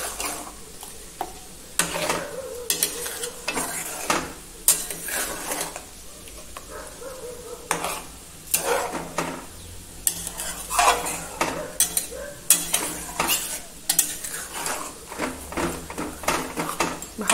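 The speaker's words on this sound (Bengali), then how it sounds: "এবারে পুরো মিশ্রণটিকে মাছের সাথে ভালোভাবে মেখে খুন্তি দিয়ে নেড়ে" Rohu fish pieces being stirred into a yogurt spice mixture with a metal spatula, loud repeated scraping and clinking strokes against the pan in an irregular rhythm, with light sizzling between them.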